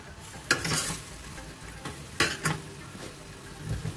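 Pork goulash being stirred in a hot pan, a continuous sizzle broken by a few sharp scraping strokes of the utensil against the pan at irregular intervals.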